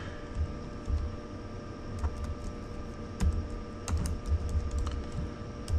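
Quick, irregular keystrokes on a computer keyboard while working in PowerShell, a steady patter of close clicks with no voices.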